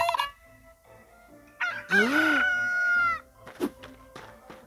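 A rooster crows once, close and loud, with a long rising and falling cock-a-doodle-doo, preceded and followed by brief clucking and faint background sounds.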